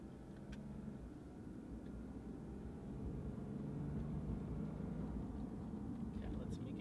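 A 2015 Lexus IS250 AWD pulling away and driving, a low steady engine and road hum heard from inside the cabin, rising slightly as it gets under way, fairly quiet.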